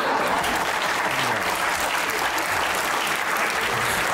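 Sustained audience applause fills a live comedy show, dense and steady from start to finish, with a faint murmur of the crowd beneath it.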